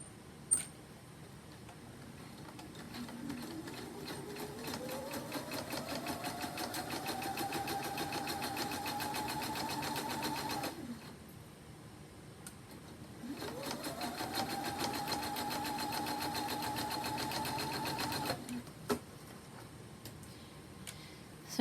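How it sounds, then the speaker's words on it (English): Sewing machine stitching the curved mouth seams of a fabric Olsen face mask, two sustained runs of close, steady whirring with a fine rhythmic ticking, each rising in speed and then stopping, with a quiet pause between. "So I sew together my mouth curves."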